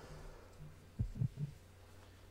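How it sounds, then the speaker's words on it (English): Heartbeat sound effect from Resident Evil Code Veronica X on PS2, a few faint low thumps in a double-beat pattern over a quiet hum, with no talking. "aesthetic that they do here with the heartbeat"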